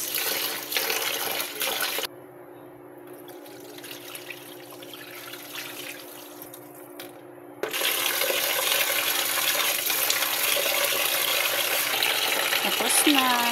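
Raw rice being rinsed repeatedly with running tap water for the evening meal, a steady splashing rush that drops to a softer trickle midway before surging loudly again.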